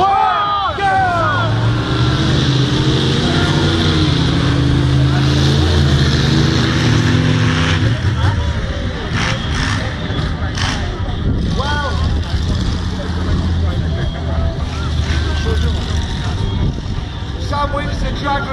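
Monster trucks drag racing at a Wolverhampton show: a loud, rising engine roar dominates throughout, with the revving strongest in the first half, and an announcer's voice over the top.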